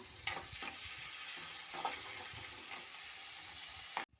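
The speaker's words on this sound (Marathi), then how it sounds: "हिरवी मिरची, कांदा। आता हे आपण छान पद्धतीने परतून घेऊया।" Onion and green chilli sautéing in a pan at home, a steady low sizzle with occasional stirring scrapes, fairly quiet and continuous, cutting off abruptly near the end.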